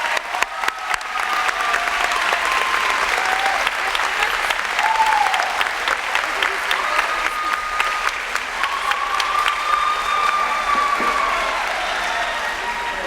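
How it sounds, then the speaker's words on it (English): Sustained round of applause for newly inaugurated student officers at a joint Boys State and Girls State ceremony, a dense, even wash of many hands clapping from a large hall crowd with faint voices mixed in. "And once again, another round of applause for all of your officers."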